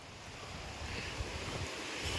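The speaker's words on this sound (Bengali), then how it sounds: "একটা ব্রিজ মতো করা, তলা দিয়েও জল যাচ্ছে" Water rushing under a small bridge near a hidden forest waterfall in Keonjhar, a steady broadband wash with some wind noise on the microphone and no voices.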